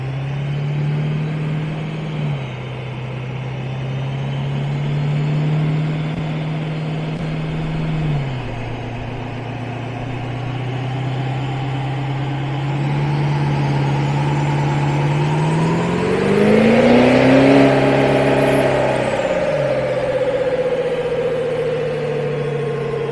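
A compound-turbo Duramax diesel truck engine runs on a dyno, holding a steady drone, dropping in pitch, then climbing in a strong rising rev with a turbo whine before settling at a higher tone.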